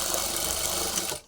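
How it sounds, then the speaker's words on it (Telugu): Sewing machine running steadily while stitching a half-collar neck uniform dress, a continuous close mechanical whir that stops abruptly near the end. "ఇప్పుడు ఈ స్టిచ్ పక్కనే ఇంకొక స్టిచ్ అనేది వేసుకుందామండి."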